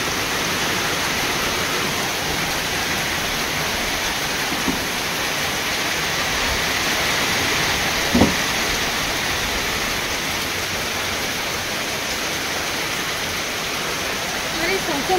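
Steady heavy rain pours down in a continuous broadband hiss through the whole stretch, loud and unbroken, with a couple of faint knocks standing out briefly.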